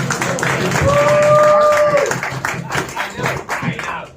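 A stand-up comedy audience claps and cheers for a comedian coming on stage, a short, fairly close burst that thins into scattered claps while a voice carries over it.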